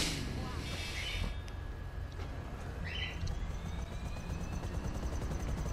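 A helicopter's rotor hums steadily in the background with a few chirpy electronic tones, as people talk over it, in the video game GTA V Online.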